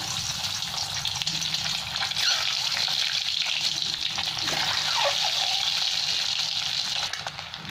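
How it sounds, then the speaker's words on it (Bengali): Boiled eggs frying in very hot mustard oil, a steady, loud sizzle and crackle that holds unbroken from start to finish. "এবার আমি ডিমটা ভেজে নেবো তেলের মধ্যে।"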